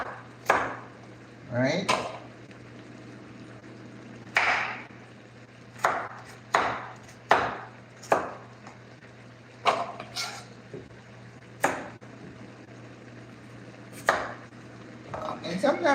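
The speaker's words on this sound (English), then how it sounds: "I get to this part, I just cut it in half." Knife halving vegetables on a cutting board, chopping in sharp, distinct strikes spaced a second or two apart, close and clear, with a person speaking briefly between cuts.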